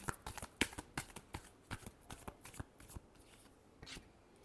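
Tarot cards being shuffled by hand in a rapid run of crisp riffling snaps and soft flutters, close and fairly quiet, with no talking.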